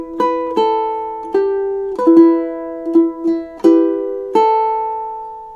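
A fingerpicked ukulele melody played at a slow, even pace, with about a dozen plucked notes and chord strums ringing close and clean, each sustaining briefly before the next, alone without talk.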